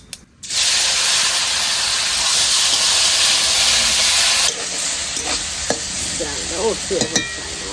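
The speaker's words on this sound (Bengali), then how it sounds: "দুপুরে রাখা কচু ফুলগুলো দিয়ে দেবো তেলের উপরে।" Taro flowers drop into hot oil tempered with mustard seeds and dried chili, bursting into a loud, close, continuous spitting sizzle that eases halfway through, broken by scrapes and clatters of stirring, with no talk.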